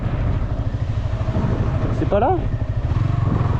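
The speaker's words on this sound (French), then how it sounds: "Il y a une moto là." A motorcycle engine rumbles close by in Bali street traffic, a steady pulsing drone under a short bit of French speech.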